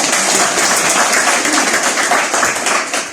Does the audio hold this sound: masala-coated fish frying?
no